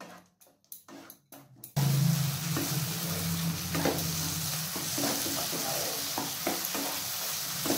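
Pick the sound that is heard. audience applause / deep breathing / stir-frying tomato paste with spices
stir-frying tomato paste with spices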